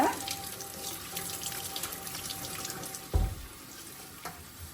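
Tap water runs steadily into a sink while a pineapple is washed under it, a soft continuous splashing heard quietly at close range, with one brief louder bump partway through.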